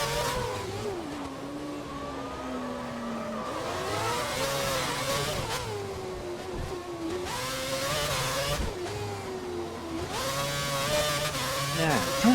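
Formula 1 cars race around the Monaco circuit in a 2011 racing video game, high engine whines rising and falling through gear changes, loud and continuous, with a voice faintly audible at times.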